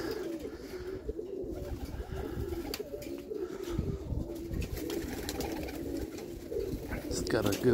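Roller pigeons coo steadily in low, throaty, overlapping calls, fairly close and continuous throughout, with a faint breezy rustle underneath.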